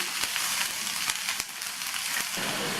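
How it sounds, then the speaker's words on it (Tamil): Chopped capsicum sautéing in oil in a pan gives a steady, close sizzle with a dense crackling hiss and a few brief spikes from stirring, and no voices. "அடுத்து கட் பண்ண குடமிளகாவை சேர்த்துட்டு எண்ணெயிலேயே நல்லா இதை 2 நிமிஷத்துக்கு வதக்கி விட்டுக்கணும்"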